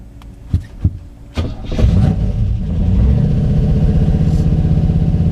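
A 1984 TVR 4.0 V8 Wild Wedge, running on its current carburetor on a wet winter day, gives a few dull knocks before the engine catches, then settles into a loud, steady, throbbing run close by.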